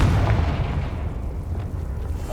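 A Confringo blasting spell going off in Hogwarts Legacy, a loud, deep explosion whose rumble fills the opening moment and then tails off into a low, fading roar, with no voices.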